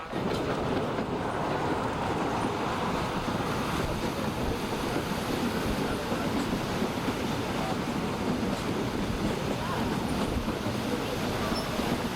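Continuous rumbling roar of a train backing out of a station in Vail, 1989, steady and fairly loud, with broad clattering noise throughout.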